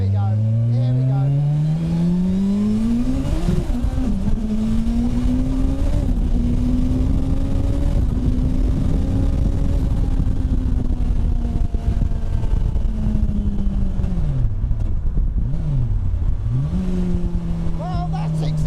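A turbocharged Suzuki Hayabusa motorcycle engine screams on its third boost setting, loud and close, its pitch climbing, holding high, then dipping and rising again through sustained hard acceleration with wind noise throughout.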